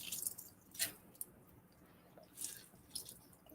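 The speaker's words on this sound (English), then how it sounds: "I'll just take it here and just squeeze the water out" Chopped cabbage is squeezed by hand to press the water out, making soft, wet squishes and trickling drips in a few bursts, close up and fairly quiet, with no talk.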